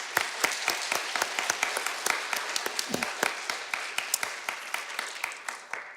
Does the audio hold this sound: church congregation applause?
yes